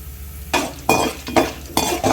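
Mustard seeds and cumin fry in hot oil for lemon rice, giving several close bursts of sizzling and crackling spatter in a quick uneven rhythm over a quiet low hum.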